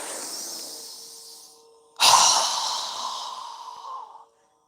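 A deep inhale followed by a strong, forceful exhale through a wide-open mouth during yoga breathing, close and breathy, then ending in silence.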